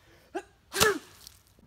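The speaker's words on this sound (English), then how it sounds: "Sneeze on it." A single loud human sneeze, a short inhaling gasp followed by a sharp explosive burst, aimed at a water balloon, heard close with quiet around it.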